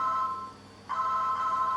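A phone rings with a steady electronic tone, breaking briefly and then resuming, moderately loud and alone.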